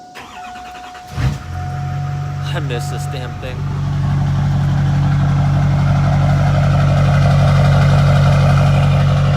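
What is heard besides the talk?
LB7 Duramax truck engine starting and idling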